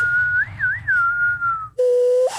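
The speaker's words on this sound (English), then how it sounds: "I can't even whistle through this" A person whistles a wavering, warbling tune for about two seconds. After a short break comes a steadier, lower held whistle. The sound is close and alone, with no talking.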